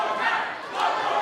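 Crowd at a VCW title wrestling match featuring Billy Gunn and Brandon Scott, chanting in a loud, sustained wash of many voices with a rising swell near the end.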